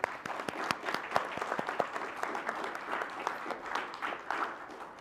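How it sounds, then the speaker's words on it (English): Audience members at a state board of education public meeting clap together after a motion carries, a steady close patter of many hands with sharp individual claps standing out, lasting throughout without talk. "we can clap again, that's fine."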